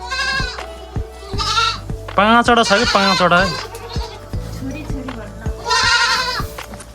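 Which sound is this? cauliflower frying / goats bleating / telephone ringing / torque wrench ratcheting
goats bleating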